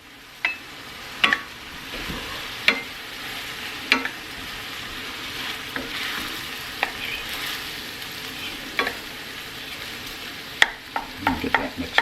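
Cooked rice is stirred into shrimp in a 12-inch 5-ply stainless steel pan, with a steady sizzle under scattered sharp scrapes and clinks of a utensil against the metal.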